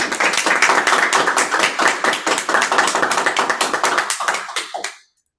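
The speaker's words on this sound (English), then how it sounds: "Can you please help me give her a round of applause?" A meeting audience applauds a speaker at an engineers and architects program with dense, brisk clapping that holds steady at moderate loudness for several seconds. It then thins to a few last claps and stops abruptly.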